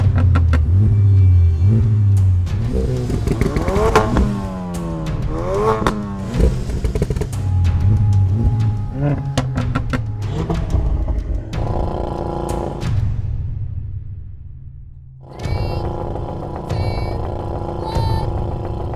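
An Audi RS 3, Mercedes A45 AMG, Honda Civic Type R, VW Golf R and Ford Focus RS accelerating hard in a drag race, a loud layered engine roar rising through gear changes, then fading to near silence before another loud burst.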